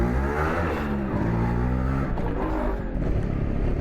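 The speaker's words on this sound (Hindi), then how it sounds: "एज अभी बाइक ठंडी ही थी तो निकलने के लिए थोड़ी थोड़ी मिसिंग मार रही थी" A cold motorbike engine sputters and misfires unevenly as it starts, a loud, close, rough running rumble with no talking.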